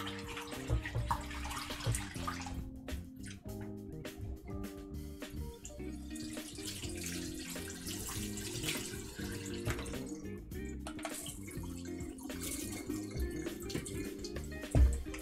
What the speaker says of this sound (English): Rinse this one more time.